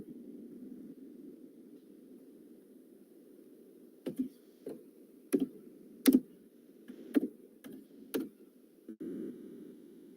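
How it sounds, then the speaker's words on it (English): Scattered, irregular keystrokes on a computer keyboard, faint clicks tapping out over a steady low hum in an online training session. "one second, I'm typing something."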